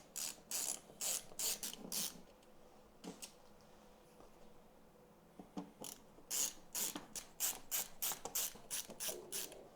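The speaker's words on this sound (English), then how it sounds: "we can go ahead and take our screws out while it's easier to get to, all the way around" Screws being backed out around the outer frame of an LG 49-inch LED TV during a backlight repair, heard as bursts of close, sharp ratcheting clicks from a hand screwdriver separated by brief pauses.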